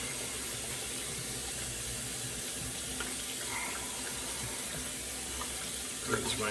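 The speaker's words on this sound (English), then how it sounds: "Rinse my hands here because this stuff is slick." Tap water runs steadily into a sink while hands are rinsed under it, a continuous close broadband splash with a few small splatters near the end.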